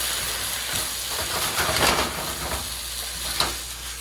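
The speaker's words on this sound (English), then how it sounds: "Okay, so the beef is looking really good. I'm just going to give it a stir." Beef sizzling in a hot pan for green pepper black bean beef, a steady dense frying hiss with soft stirring scrapes and a small clink, close and continuous with no voices.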